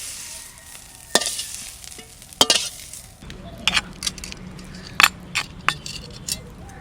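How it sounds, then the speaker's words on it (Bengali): Food frying in a pan, quiet at first, then a steady sizzle with scattered clinks of stirring from about midway, close by and with no talk. "ভাজা হয়ে গেছে, তুলে নেব।"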